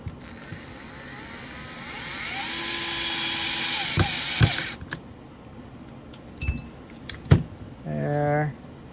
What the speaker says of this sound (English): At this point, I can put these screws back in.